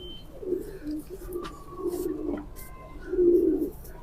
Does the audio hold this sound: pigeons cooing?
yes